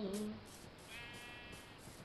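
A Minecraft sheep gives a couple of short bleats in the video game, fairly faint and close, over a quiet background without speech.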